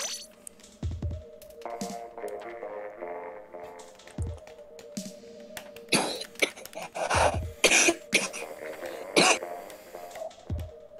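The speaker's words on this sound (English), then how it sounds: "I got a bad cough." A person with a bad cough coughs and clears their throat several times, close up, among small clinks and scattered clatter during a late-night gaming stream.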